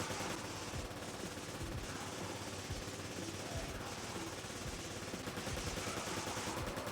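A VZ61 submachine gun firing in the video game Resident Evil 5, a dense, continuous stream of rapid shots, loud and unbroken throughout, with no pauses between bursts.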